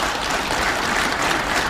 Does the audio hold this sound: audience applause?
yes